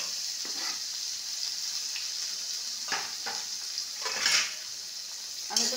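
Chopped onion goes into hot oil already seasoned with whole cumin and a bay leaf, giving a steady soft sizzle with brief louder crackles and stirring scrapes throughout.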